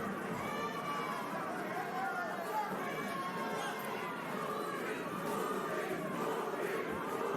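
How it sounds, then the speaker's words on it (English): Crowd at a boxing bout voicing a rhythmic chant for a fighter, a steady, dense mass of voices at moderate level that continues throughout without pause. "The crowd getting a chant of Purin going for Caraballo."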